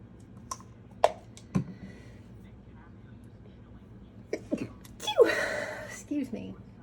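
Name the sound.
sneeze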